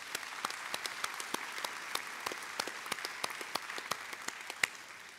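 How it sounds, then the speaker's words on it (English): Scattered, fairly faint clapping from an audience at a university graduation ceremony for nursing, midwifery and health graduates, with distinct individual claps in an uneven rhythm throughout. "I think we should give that bunch a round of applause"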